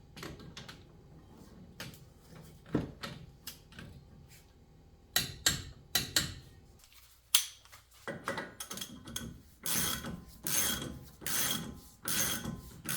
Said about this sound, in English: we're going to tie them down to 44 foot-pounds of torque